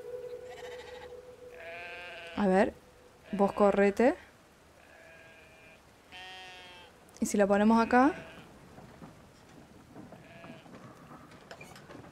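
Sheep bleating in the video game Brothers: A Tale of Two Sons, several loud wavering bleats in short bursts with quiet gaps, while a person talks in Spanish between them.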